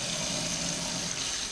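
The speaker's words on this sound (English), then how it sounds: "I'm going to get this hot water going" Hot water pours steadily from a household tap into a container, making a continuous close, hissing rush with no other sounds.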